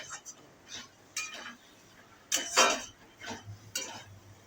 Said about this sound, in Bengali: আরেকটু ভালো করে নাড়াতে হবে।